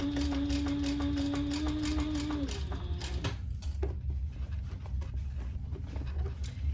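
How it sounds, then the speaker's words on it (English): A sewing machine stitches bag panels together at a quarter-inch seam, its motor a steady hum for about two and a half seconds before it stops, leaving scattered clicks and handling noises. "we're gonna sew that together at a 1/4 inch seam allowance"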